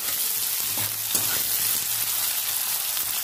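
Chopped onion, green chilli and garlic fry in hot oil, giving a loud, close, continuous sizzle with faint stirring scrapes underneath.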